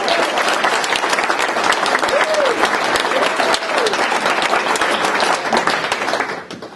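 An audience at a classic country music show applauds a performer with dense, sustained clapping throughout. A few whoops rise faintly over the applause before it begins to fade.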